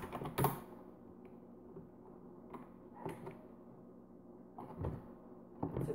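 Scattered keystrokes on a computer keyboard while someone runs MS-DOS software, a few separate taps and short bursts at a moderate distance over a steady low background hum.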